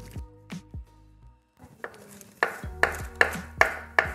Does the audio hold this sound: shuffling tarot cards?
no